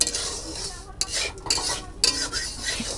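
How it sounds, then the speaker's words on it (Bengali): Salt being dry-fried in a pan on a gas stove is stirred with a metal utensil, scraping and clinking in quick irregular strokes over a faint sizzle, close up and with no talk. "লবণটা ভেজে এবার তরকারি বসাও"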